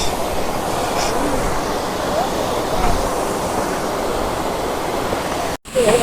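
Large waterfall at Catherine Falls near Kotagiri, a steady broadband rush of falling water heard from nearby, continuous and even, with a short dropout near the end.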